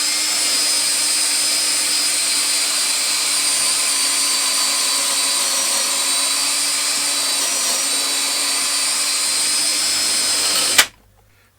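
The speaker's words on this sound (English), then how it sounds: "the extraction hole is working well here with the drilled material coming out quite easily" A power drill bores pocket holes through a Kreg KPHJ320-INT pocket hole jig with the dust extraction working, a steady close high whine running unbroken before cutting off sharply at the end.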